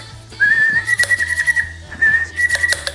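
A hand-pumped manual milk frother for an espresso maker gives off a sustained, fairly loud whistle that holds a steady pitch in two long stretches, broken by a short gap, with soft pumping knocks underneath and no talking.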